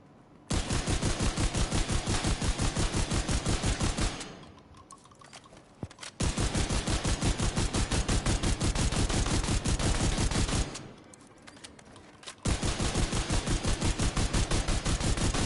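Shotgun fire in The Division 2 comes as three long bursts of rapid, evenly spaced shots, loud and close, separated by short lulls of quieter background rumble.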